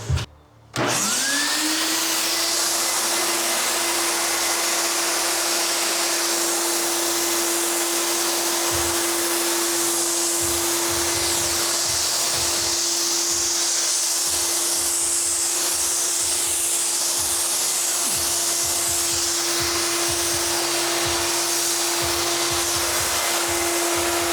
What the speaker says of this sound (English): Like I do wheels all the time with my sprayer, so you don't have to use just rattle cans.